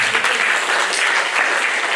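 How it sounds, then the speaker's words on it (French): Steady applause from an audience at a public science talk on astronomy, a dense, even wash of clapping that holds at full strength through the whole two seconds with no voices over it. "Bravo, on peut l'applaudir."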